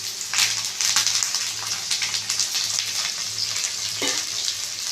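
Onion sautéing in a pan for bitter gourd curry, a continuous crackling sizzle with stirring scrapes, fairly loud and close with no talk.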